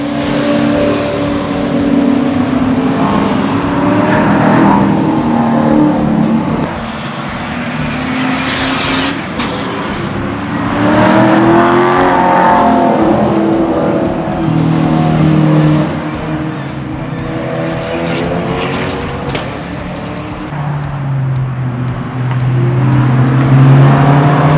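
A salvaged C8 Corvette, rebuilt from wrecked to track ready, lapping a race track: loud close engine drone rising and falling with repeated revving and acceleration surges through gear changes over a sustained stretch.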